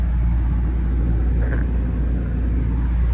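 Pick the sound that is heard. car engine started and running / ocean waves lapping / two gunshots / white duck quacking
car engine started and running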